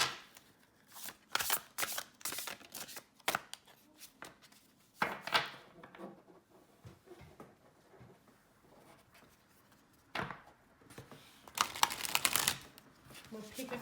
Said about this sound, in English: Okay, going to give the deck a shuffle.